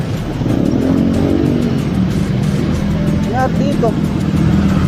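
Early-morning road traffic in Metro Manila, with cars and motorcycles rumbling and revving close by in a steady, loud drone while someone talks over it.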